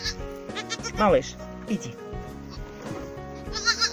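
Newborn goat kids bleat in short, wavering calls close by, with a few separate cries scattered across the moment while someone speaks softly over them.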